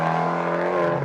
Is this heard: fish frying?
no